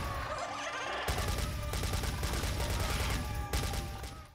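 Rapid gunfire from a lightgun arcade shooter where up to four players blast dinosaurs, dense sustained bursts of shots filling the scene loudly, with a brief lull before the barrage kicks in and continuing almost to the end.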